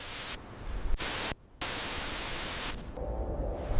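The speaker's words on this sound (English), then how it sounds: "Channels dedicated to broadcasting white noise," White noise static, loud broadband hiss that cuts out abruptly for a moment and returns, with a faint hum toward the end.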